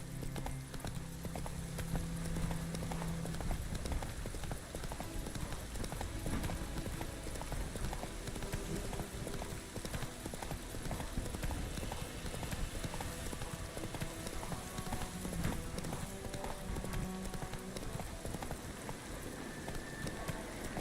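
Horse Roach's hooves clip-clop steadily at a gallop across a scene from The Witcher 3 video game, a continuous near rhythmic patter under a soft rain-like hiss, with no talk.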